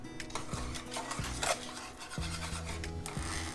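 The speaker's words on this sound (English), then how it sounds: "make sure I scrape the sides of my pan as well to get everything incorporated" A utensil scrapes and rubs around the sides of a pan while vanilla pudding is mixed, giving repeated rhythmic scraping strokes, close, over a low steady hum.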